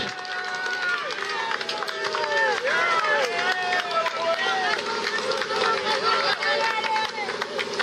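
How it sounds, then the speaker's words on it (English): Dense roadside crowd cheering, whistling and shouting along the Alpe d'Huez climb during a cycling race, a loud continuous roar with rising whoops throughout. "Listen to the crowd."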